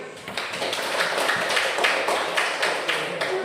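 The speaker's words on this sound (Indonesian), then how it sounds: "Tepuk tangan lagi." Schoolchildren in a classroom applaud, a steady run of rhythmic group clapping in pulsing beats, close and lively, with no talk.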